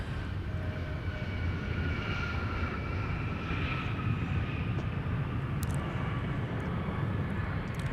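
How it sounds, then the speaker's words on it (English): A Delta Airbus A330-900 pushes back at Minneapolis–St. Paul airport before a flight to Rome, heard as a steady, distant jet engine roar with a faint high whine, continuous and unbroken throughout. "Delta 298 is pushing back to head for Rome"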